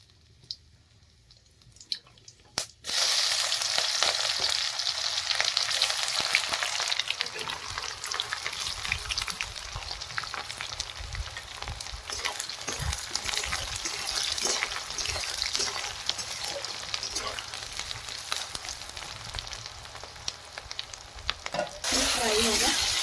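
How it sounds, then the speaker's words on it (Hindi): Chopped putka mushrooms hit hot oil in a pan, a sudden loud sizzle that stays dense and crackling with stirring scrapes throughout, then briefly drops near the end. "तो चलिए पहले पुटका को फ्राई कर लेते हैं यहाँ पे"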